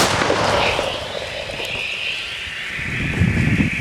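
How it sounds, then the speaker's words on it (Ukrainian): A heavy towed howitzer fires with a booming blast that rolls out and echoes across open ground, followed by a rumbling tail and wind. "Наша арта отримує ціль, готується і робить результативний постріл."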